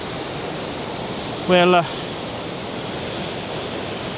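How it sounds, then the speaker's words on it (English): Steady broadband roar of a waterfall in South Wales swollen after a storm and recent flooding, continuous and fairly close, with one brief spoken word partway through. "And there's the waterfall."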